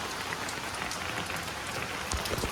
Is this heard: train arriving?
no